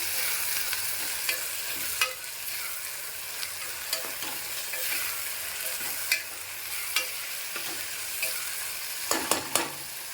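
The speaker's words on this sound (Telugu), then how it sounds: "మసాలా వేసేసి మళ్ళీ కొద్దిసేపు మగ్గబెట్టుకుందాం తిప్పేసుకుని." Ivy gourd masala curry fries in a pan with a steady close sizzle, punctuated by scattered scraping stirs and a cluster of clacks near the end, no voices.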